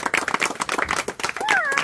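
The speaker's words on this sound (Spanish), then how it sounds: "así que se merecen un gran aplauso" An audience applauds for the children of Los Laureles, brisk clapping that runs under cheering voices and talk, with a brief whistle-like tone near the end.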